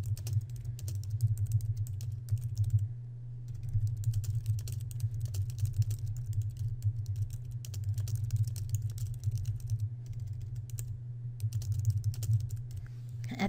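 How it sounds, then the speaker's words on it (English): Steady typing on a computer keyboard in a word processor, a continuous stream of fairly soft, close key clicks over a low background hum, with brief pauses and no talking. "I'm going to press enter, and then I'm going to type the third"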